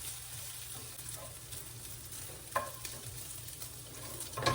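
Pancetta sizzles and crisps in a pan, a soft, steady frying hiss with a couple of small pops, fairly quiet and close, no voices.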